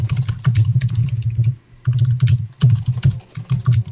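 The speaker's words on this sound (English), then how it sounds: "I got a new keyboard when I got my new desk set up, and it is so quiet" Rapid keystrokes on a new, quiet wired Apple computer keyboard patter close by in dense bursts, broken by two short pauses, with no talking.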